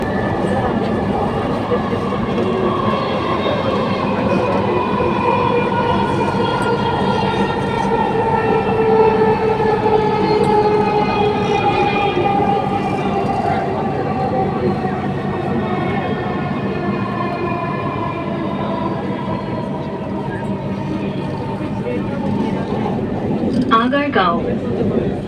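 A Dhaka metro rail train runs between Motijheel and Uttara North, heard from inside the car as a loud, steady rumble with whining tonal hums that shift slowly. A voice is heard at times over the running noise.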